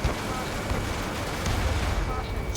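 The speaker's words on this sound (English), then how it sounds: "Forgot how much this cannon apparently shreds." Continuous dense roar of an aircraft cannon firing in the combat flight game Ace Combat 7, a heavy rumbling burst that runs unbroken for the whole stretch, loud and close.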